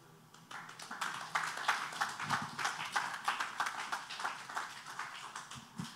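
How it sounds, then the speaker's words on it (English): Applause from an audience at an awards ceremony in an auditorium: a fairly faint, distant patter of many hands clapping, rising quickly and pulsing steadily for several seconds. "A bigger round of applause for her"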